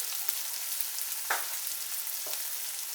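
Poppy seed paste frying in a pan for an eggplant dish, a steady close sizzle with a few soft stirring scrapes and no voices.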